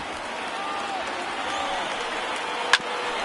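A steady, dense roar from a stadium crowd of more than 36,000 rising to its feet and cheering in the baseball video game MLB The Show, with one sharp, brief spike near the end.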